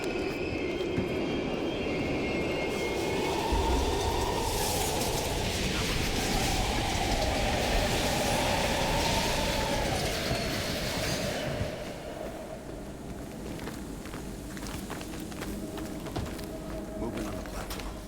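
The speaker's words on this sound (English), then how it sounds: "We can use a train to slip past." A train rolls through an abandoned East German station in Black Ops Cold War, a loud continuous rumble with rising and falling screech that fades slightly near the end, with no talk.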